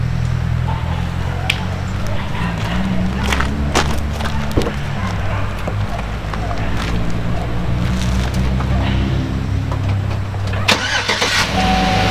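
A Chevrolet Camaro engine cranks and starts up, then runs loud and steady at idle for several seconds, with scattered clicks and knocks over the rumble.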